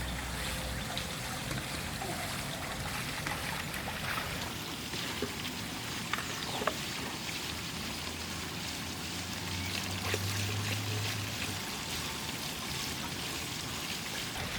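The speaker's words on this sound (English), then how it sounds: "we're going to go ahead and slowly dump that into our skimmer." Mixed DE slurry poured slowly into the skimmer of a pool and spa with a Jandy filter, a steady continuous trickle and stream of water with faint splashing throughout, no talking.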